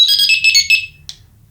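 An AF-2004 two-in-1 personal alarm with Apple Find My tracking emits a loud, rapidly pulsing high electronic beep for about a second after a factory reset, followed by a short chirp, then quiet.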